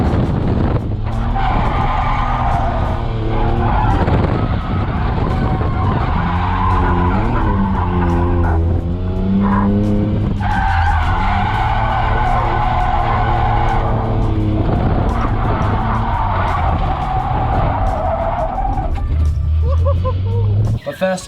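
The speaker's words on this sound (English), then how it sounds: "I'm also going to overlay just some driving footage" A car drives hard with tires skidding and squealing, a loud continuous engine roar rising and falling in pitch through repeated sliding passes, with a voice heard over it.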